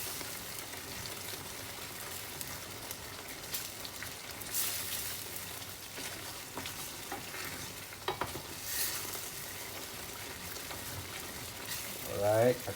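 Vegetarian fish sambal stirred and fried in a wok, giving a steady sizzle with scraping stir strokes throughout and a louder clatter near the end.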